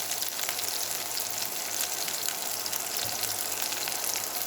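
Onion and sliced green chillies fry in hot oil until browning, making a dense, even hiss that stays loud and constant throughout.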